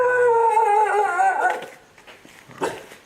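Dogs howl at night during a 2 a.m. stay on a Bali volcano: one long, wavering, sliding howl up close, fading into softer whimpers and a few short yips afterward.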